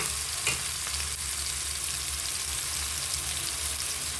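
Masala cooking in a pan hisses with a continuous soft sizzle, and a spoon scrapes and stirs in brief clinks near the start, close and fairly quiet.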